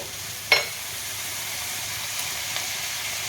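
Ginger paste hits a hot pan with a sharp sizzle burst, then settles into a soft, continuous frying hiss with faint stirring clicks, and no talking.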